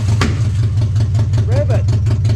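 A Renault F4R engine of a mixed-parts build with no extractor, running with a steady, loud idle pulse throughout and little sign of a clear rev.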